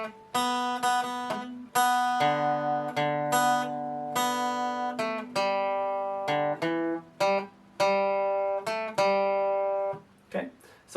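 An acoustic guitar plays the folk tune Sean South from Garryowen slowly, strummed chords ringing out one after another in a steady, unhurried rhythm, clear and close with no talk.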